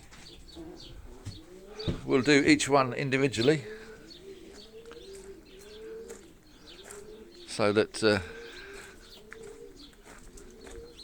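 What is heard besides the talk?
young racing pigeons cooing in the stock loft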